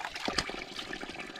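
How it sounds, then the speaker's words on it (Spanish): Water trickling steadily from a spring at the corner of a roadside path, a close, continuous liquid babble with small splashy bursts throughout. "esta agua está en el rincón de un camino de la carretera"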